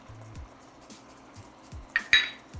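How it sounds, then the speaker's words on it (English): Onions stirred in a pot for chicken enchilada soup, with quiet scraping and low knocks from the utensil, then a couple of brighter metallic clinks against the pot. "Give that a little stir"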